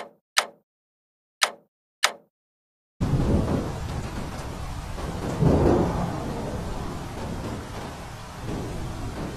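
Thunder and rain in the Toca Life World game: after a few short plopping drops, loud steady rainfall begins, and a deep thunder rumble rolls through the middle of the downpour.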